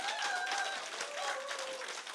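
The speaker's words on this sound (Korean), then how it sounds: "다시 한번 뜨거운 박수 부탁합니다." Applause from an audience at a business presentation in Daejeon, a steady wash of many hands clapping at moderate distance with no voices over it.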